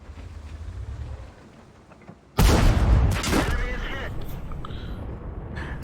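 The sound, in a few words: tank cannon shot in World of Tanks video game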